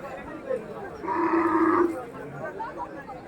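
A cow lowing at a village livestock market held for Eid sacrifice, one long drawn-out moo in the middle, heard under buyers and sellers chattering in the background.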